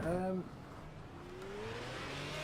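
BMW V12 LMR race car in Project CARS at the Nurburgring, a high engine note dropping sharply at the start, then a steady revving climb underneath someone talking.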